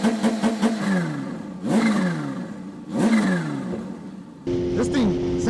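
A supercharged Kawasaki ZH2 motorcycle revs close by in repeated blips, each swelling and falling away with a fluttering intake chatter, then settles to a steadier engine note near the end.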